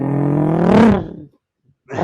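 A voice imitates a Volkswagen engine with a loud rising growl that swells and then cuts off, followed by silence and a brief restart.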